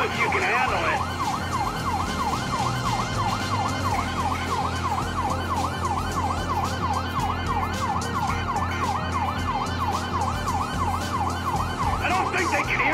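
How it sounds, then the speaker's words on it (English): Police sirens in the video game Grand Theft Auto V wail continuously in a fast, regular up-and-down pattern, loud and close, over rumbling traffic noise for the whole stretch. "I don't think they can hear the sirens."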